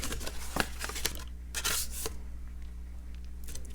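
Scissors snip through craft material being trimmed for stackable mini drawers, a few quick close cuts and rustling rubs in a quiet room, with no talk.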